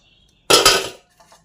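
Rice and fried food being served onto a plate, with one loud burst of clattering dishes and utensils lasting about half a second, then a couple of faint clinks.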